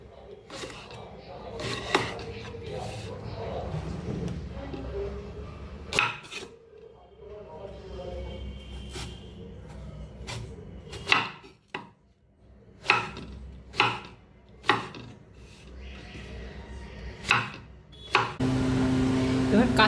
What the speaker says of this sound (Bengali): এই যে কাটছি, এই যে বেগুন কাটছি